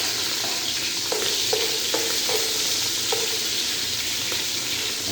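Onions are added to reddened garlic frying in a pan for stir-fried bitter gourd with egg, giving a loud, steady close sizzle broken by a few scraping stirs of a spatula.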